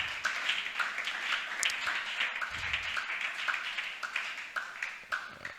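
A church congregation claps and cheers in praise of the Lord Jesus, a steady wash of many hands applauding at moderate distance, fairly faint and continuous throughout.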